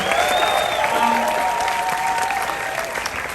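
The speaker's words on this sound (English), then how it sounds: "give rapturous applause to everybody involved in this film" Loud, rapturous applause from a screening audience at a Q&A for the 2025 film Heart Eyes, honoring the cast and crew; dense clapping close by, with a few faint whistle-like tones early on.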